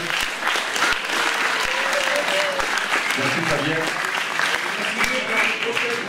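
At a Téléthon evening in Saint-André-les-Alpes, the audience applauds the sound engineer: dense, sustained clapping from a crowd filling the whole stretch, with a voice speaking briefly over it.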